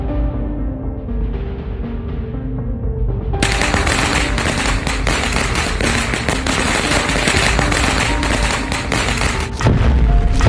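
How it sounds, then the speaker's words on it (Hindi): Dense, rapid crackling bursts of Diwali firecrackers go off continuously for several seconds, loud and close, with a heavier thump near the end. "रॉड के बाद बुल्ली पटाखे फोड़ता है।"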